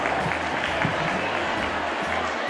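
An audience at a Women's Day tribute luncheon in Fuentes de Andalucía applauds steadily, a dense, continuous wash of clapping from many hands filling the room without pause.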